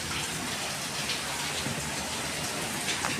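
Heavy rain mixed with hailstones pours down in a steady, dense hiss, close and unbroken, with no voices over it.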